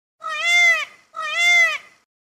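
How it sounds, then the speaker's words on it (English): A peacock gives two loud, wailing, cat-like cries of equal length in quick succession, alone and with no background sound. "Peacock."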